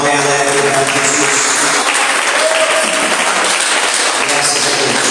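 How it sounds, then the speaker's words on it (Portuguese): Church congregation in a Portuguese-language evening service giving a joyful round of applause, dense steady clapping from many hands filling the room with faint voices mixed in. "Quem pode dar uma salva de palmas bem alegre para Jesus?"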